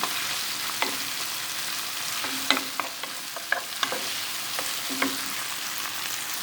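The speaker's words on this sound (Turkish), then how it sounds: "Yaklaşık bir buçuk dakika kadar kavuracağım." Finely chopped arugula sautés in a hot pan for a Turkish meat-and-vegetable stew, a steady close sizzle broken by sharp scraping clicks of a utensil stirring against the pan.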